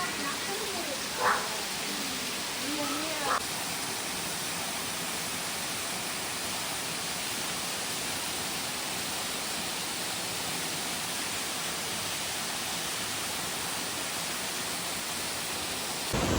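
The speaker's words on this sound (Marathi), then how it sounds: "पहा या ठिकाणावरून पाणी जात आहे." A constant loud rush of water flowing at Harkul Dam fills the whole stretch, with a couple of faint brief sounds near the start.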